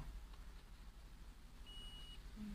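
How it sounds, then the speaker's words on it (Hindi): A multimeter in continuity mode probes the battery connection on a phone circuit board, giving a single short, thin electronic beep that is faint over a low background hum. "देखिए बीप का साउंड आ रहा है"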